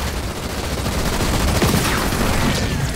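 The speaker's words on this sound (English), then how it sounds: "just under fire from ground troops!" Ground troops fire on a unit in the video game Halo Wars 2. Rapid automatic gunfire rattles on loudly and continuously over a dense battlefield din for the whole stretch.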